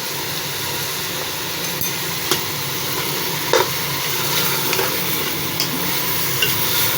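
Turnip and masala frying in a pan, a steady sizzle with occasional scraping stirs and small clicks of a spoon against the pan, heard alone without talk.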